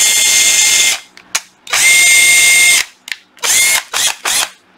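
A Makita cordless drill with two speeds and 18 clutch settings runs in drill mode, a loud, high whir in two long bursts of about a second each, then several quick trigger blips, with silence between them.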